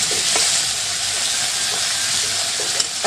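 Food fries in a pan with a steady hiss and sizzle, broken by faint scrapes and stirring clicks, close and continuous without speech.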